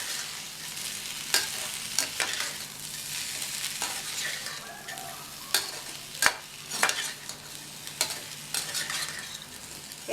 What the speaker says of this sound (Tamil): சேர்த்துட்டு நல்லா மறுபடியும் மிக்ஸ் பண்ணி விட்டுறலாம்.